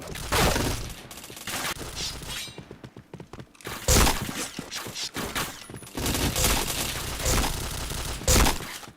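Bursts of gunfire in an online shooter game, rapid volleys and sharp cracks in clusters with brief lulls between, loud and close throughout.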